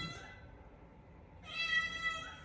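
Cat in a garage giving a single faint, drawn-out meow after a brief earlier chirp, quiet against low background hum.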